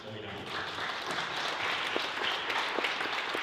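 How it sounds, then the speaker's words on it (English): A gym crowd applauds a senior player on the Illini Central girls basketball team at a home game against Pawnee. Steady, dense clapping runs throughout, with talk mixed in. "Let's have one more applause for senior Chloe Dom"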